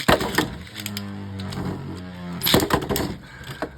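Beyblade Burst tops Guilty Luinor and Longinus, the heavier one set to low mode apex with guard, clash in a stadium with sharp plastic clacks and ringing whirring spin, bursts of hits near the start and again midway.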